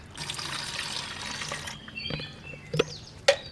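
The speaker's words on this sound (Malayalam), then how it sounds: "ഒരു ഒന്നൊന്നര ലിറ്റർ വെള്ളം ഇതിലോട്ട് നമുക്ക് ഒഴിച്ചു കൊടുക്കാം" Water pours and splashes into a homemade fertilizer mixture for rose plants, a brief rushing flow followed by a couple of sharp knocks.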